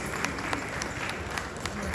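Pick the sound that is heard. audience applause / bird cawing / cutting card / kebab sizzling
audience applause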